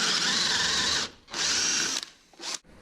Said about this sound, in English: take a Forstner bit to gouge out most of the material